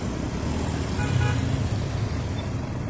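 Steady road traffic rumbles past a crash site on a highway in Pagbilao, Quezon, with cars, trucks and ten-wheelers giving a continuous low engine drone from nearby, and no talking.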